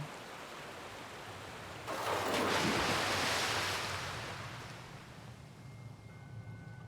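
A waterfall in the video game Kuon, a steady broadband rush that swells loudly for a few seconds, then eases back to a softer continuous wash.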